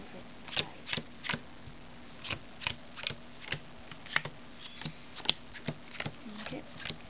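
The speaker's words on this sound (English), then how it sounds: "I'll place this card right there. I'll just do that for all the cards." Playing cards laid down one by one on a table during a card trick, a steady series of soft slaps and flicks at roughly even intervals, close and clear.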